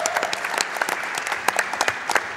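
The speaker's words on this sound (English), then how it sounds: "So round of applause for that." An audience at a speedrunning charity marathon event applauds steadily, a dense, even clatter of many hands clapping throughout, loud and fairly close, with no talk over it.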